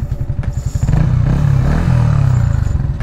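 A Yamaha XSR 155 motorcycle idles close by, its engine and exhaust giving a loud, rapid, steady throb with slight rises in pitch and mechanical clatter on top.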